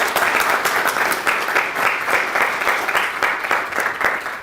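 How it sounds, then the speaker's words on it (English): A lecture audience applauds steadily, dense continuous clapping filling the room, fairly loud and even throughout with no voices over it. "Let's give Natalie and Cruz and ACSA a round of applause for gratitude."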